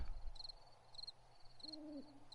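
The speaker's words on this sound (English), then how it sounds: "I knew where that owl was, I'd shoot him just for making noise" An owl in the video game 7 Days to Die hoots in a low mournful call near the end, over a steady chirp of insects repeating every half second and a faint background hum.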